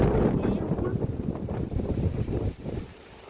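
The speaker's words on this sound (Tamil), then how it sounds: "பயங்கரமாக காற்றடிக்குது." Strong evening wind buffets the microphone in a village garden, shaking the fence, in loud rough gusts that fade near the end; a faint voice may be underneath.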